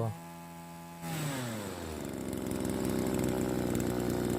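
A small two-stroke engine, a 767 or TU36 type, idles, then revs up sharply and holds a loud, buzzing high rpm after a carburetor adjustment, close by with no talking.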